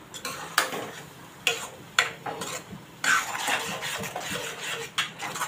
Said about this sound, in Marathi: तेलावर चांगलं वाटण हे परतून घ्यायचं आहे.